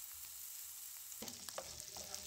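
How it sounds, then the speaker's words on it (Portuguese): Onion sautés on a hot griddle, faint at first, then a sizzle swells with a few scraping and tapping sounds of stirring, quiet overall and without speech. "é para refogar um pouquinho, para poder dar o gosto na chapa, a cebola"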